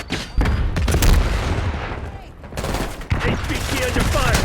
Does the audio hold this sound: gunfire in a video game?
yes